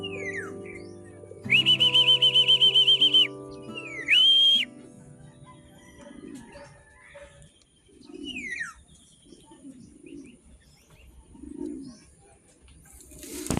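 Pigeons in a loft give low, soft coos repeated through the scene, mixed with brief higher whistles and chirps nearby, with no talking.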